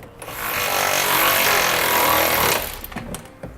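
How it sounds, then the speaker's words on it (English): Steady metallic ratcheting of a 19mm wrench and socket tightening trailer hitch bolts on a 2016 Jeep Patriot, a dense continuous rasp lasting about two seconds, then a few sparse clicks and taps close by. "now we're going to use our 19mm wrench and socket. We're going to start tightening down our hardware"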